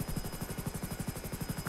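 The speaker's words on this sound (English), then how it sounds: "The helicopter's pretty loud." A loud helicopter hovers close overhead, its rotor thumping in a fast steady rhythm with a constant high whine, alone and unbroken.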